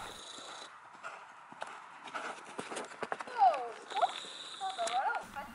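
Hooves of a pony clip-clop at a walk, soft irregular thuds heard under a person talking, with a few faint rustles and squeaky tones mixed in.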